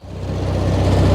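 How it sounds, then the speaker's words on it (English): A tractor engine runs steadily as it mows long, two-foot-tall grass on the first cut of the year, a loud, close, continuous low drone that rises slightly at the start. "it's going to be a good workout for the tractor mowing this whole area"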